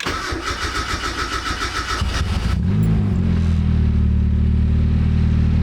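A starter cranks rhythmically, then a Mazda Miata engine catches and roars to life, revving before settling into a loud steady idle; a voice speaks briefly.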